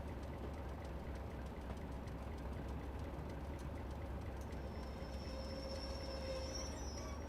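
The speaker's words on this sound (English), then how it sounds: "Squeaky brakes." Squealing brakes on a Class 205 diesel multiple unit in Train Simulator Classic, on the West Highland line. A rumbling engine drones steadily throughout, and a thin, high brake squeal rises over it in the last few seconds.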